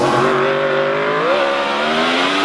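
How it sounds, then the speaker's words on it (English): Historic racing car engines at a hillclimb fire up and run, a loud steady drone whose pitch climbs slightly midway, with no voices over it. "I'm hearing engines starting up as they show the BRM just finishing off up the hill."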